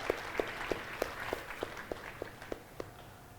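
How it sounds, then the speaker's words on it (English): At a community gathering honoring brothers and teachers, faint, evenly spaced claps sound about three times per second, roughly ten in a row. The beat is regular and fairly distant, with no one talking. "Let us once again give a huge round of applause for all of our brothers and teachers"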